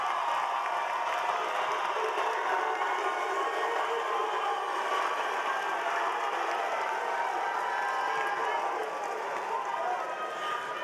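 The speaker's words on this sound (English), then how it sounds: "let's stand and let's give these scholars a round of applause" Graduation audience standing to applaud scholars at the Memphis Virtual & Adult School, a dense, steady wash of clapping and some cheering that continues evenly for about eleven seconds.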